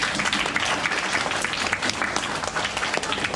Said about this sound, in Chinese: 那我们再一次掌声一下